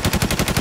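Rapid automatic gunfire in a shooter video game, about seven sharp shots in a fast even burst, loud and close with no talk over it.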